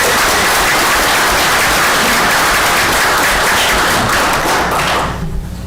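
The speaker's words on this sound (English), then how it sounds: "a quick shout out and applause for our firefighters in Hainesport." Loud, close applause from a township committee meeting audience for local firefighters, dense sustained clapping with some thumps and taps that fades out at the end.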